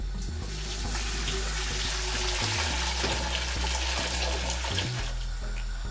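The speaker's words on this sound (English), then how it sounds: "Now I'm adding hot water to the pot." Hot water poured steadily into a cooking pot of vegetable beans, a continuous close splashing gush with bubbling and shifting pitch, no talk.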